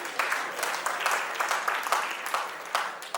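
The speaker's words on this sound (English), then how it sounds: "Big round of applause" An awards-ceremony crowd at a corporate excellence event bursts into a big round of applause, dense clapping with loud rhythmic surges and a few cheers mixed in.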